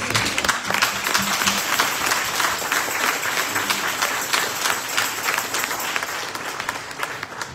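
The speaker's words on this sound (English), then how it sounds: "please join me in giving her memory a round of applause" A church congregation at a home going memorial service gives a sustained round of applause, loud and dense clapping filling the room for several seconds, with faint voices mixed in.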